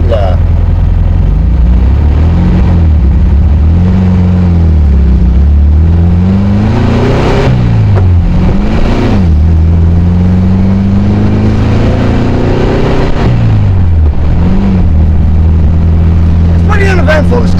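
A 1968 VW Karmann Ghia engine drones loudly throughout while driving, its pitch rising and falling with repeated revving and gear changes, with someone talking over the cabin noise.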